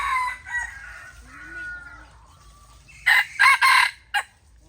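A rooster crows in a few loud, close bursts near the end, after quieter clucking and a voice talking in the background.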